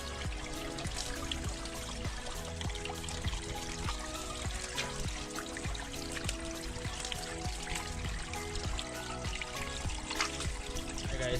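Water runs off through a small bush stream in Jamaica, cleared of stones and brush, making a continuous soft trickling and pouring sound at moderate distance, with no voices.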